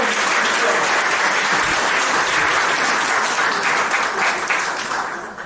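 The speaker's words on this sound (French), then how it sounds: "Nous pouvons donc applaudir" Guests at a civil wedding ceremony at a town hall in Gabon break into dense, continuous applause. It stays loud and steady and begins to fade at the very end, with a faint murmur of voices mixed in.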